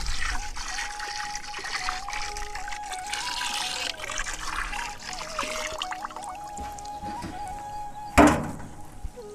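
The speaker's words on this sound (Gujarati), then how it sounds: "એ બે કિલો ગોળ બસો લીટર બેલરની અંદર એડ કરી દઈશું" Jaggery water trickles and splashes steadily into a 200-litre barrel, ending with a short louder knock or clatter near the end.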